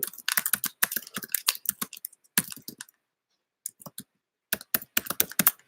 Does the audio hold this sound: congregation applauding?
no